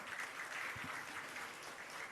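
An audience claps at an outdoor land-certificate handover ceremony in Sumberklampok village, Bali, with dense, steady applause from many hands held at an even level.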